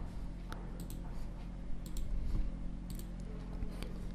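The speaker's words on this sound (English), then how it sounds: "So just double left click it to extract this zip file." A computer mouse gives several sharp, faint left clicks, some in quick pairs, over a quiet room hum.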